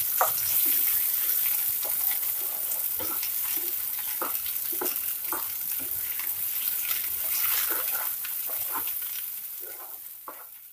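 Tomato, onion, ginger and garlic paste sizzling and frying in a pan, a loud continuous crackle with scattered pops and stirring scrapes, close up, easing slightly toward the end.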